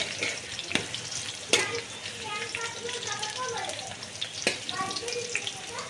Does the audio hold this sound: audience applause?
no